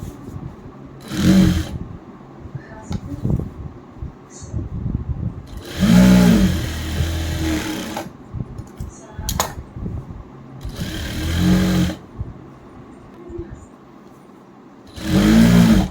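A sewing machine stitches a pant seam in four separate bursts of steady, rapid whirring, each lasting a second or two, with quiet pauses and faint handling noises between them.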